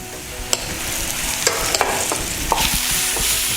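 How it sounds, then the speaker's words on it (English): Ginger garlic paste fries with onions in a pan, a close steady sizzle under scattered spatula scrapes and a few sharp taps, with no talking. "Fry this also so that the dryness of ginger garlic will go"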